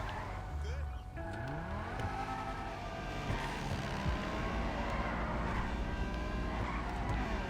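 Banshee 900R, a rear-wheel-drive car in GTA Online, revving and accelerating through shifting engine pitch with brief tire squeal, loud and close, while someone talks over it.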